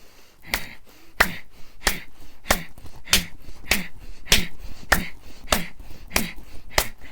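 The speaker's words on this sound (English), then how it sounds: "I'm going to just do 10 deep diaphragmatic, forceful breaths. And I'm going to be clapping." Ten or so sharp hand claps in a steady rhythm, each paired with a forceful diaphragmatic breath, close and loud with no talking.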